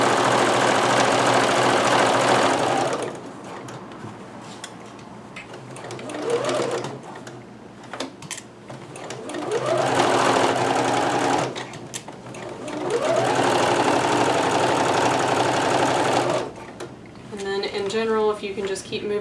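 A sewing machine stitches kimono fabric in long, steady running bursts separated by pauses, close and fairly loud, with a person talking during the breaks.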